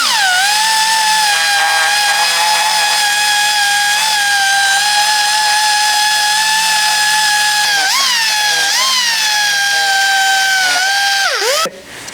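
A dual-action sander with 80-grit paper works down a ground weld on a metal panel, giving a loud, steady high whine that holds for about eleven seconds, dips briefly in pitch under load, then winds down at the end.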